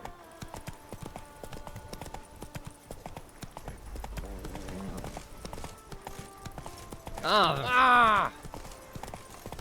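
Roach the horse clip-clops along in Witcher 3 Blood & Wine, with soft hoofbeats under game ambience and brief voices, then a loud whinny near the end.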